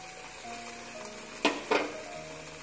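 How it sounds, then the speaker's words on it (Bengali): Onion paste, ginger-garlic paste, chopped garlic and green chili sizzle in hot oil for a Mughlai paratha filling, with two quick, close stirring scrapes cutting through the steady frying hiss. "এগুলো দিয়ে আমরা খুব ভালোভাবে নাড়তে থাকবো যতক্ষণ না এগুলো থেকে তেলটা ছাড়বে"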